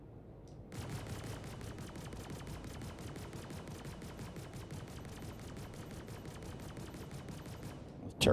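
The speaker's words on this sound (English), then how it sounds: "The turret's shooting at me." Rapid, steady bursts of turret gunfire in a space video game hammer on for several seconds as a loud, evenly spaced automatic stream, with no talk over it.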